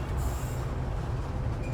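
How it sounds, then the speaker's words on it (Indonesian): The Sangkuriang compartment-suites passenger train pulls into Pasuruan station at night, a steady low rumble of rolling carriages with a faint, brief high wheel squeal near the start and no talk. "kereta api Sangkuriang telah tiba di stasiun Pasuruan"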